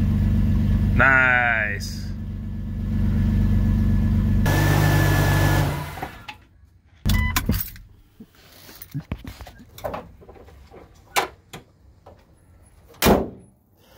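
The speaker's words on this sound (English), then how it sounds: "Black Beauty fires up real nice." A Jeep Cherokee XJ with a newly replaced starter and battery cranks with a brief rising whir, then catches and runs loudly for a couple of seconds. Several sharp door-like clunks and a short spoken word follow.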